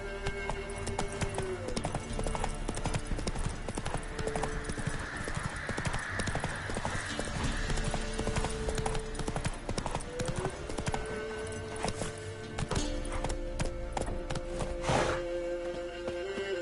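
Hooves of the horse Roach clip-clop steadily through The Witcher 3: Wild Hunt, a close, even rhythm that runs the whole time, with a brief whinny and faint game music and ambience underneath.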